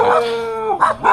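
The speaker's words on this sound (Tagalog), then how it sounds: "Kaya may aso." A dog gives a drawn-out howling bark followed by two quick barks, loud and close.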